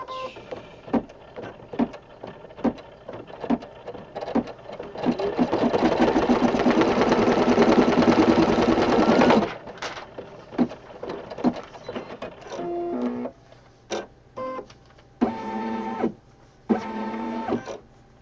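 An embroidery machine runs a placement stitch on a hooped rug project, starting with rapid rhythmic needle clatter, rising into a steady loud whirring run, then returning to short stop-start bursts of stitching with pauses, close and alone.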